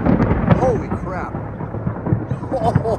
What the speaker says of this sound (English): That's the best thunder we've heard yet this season.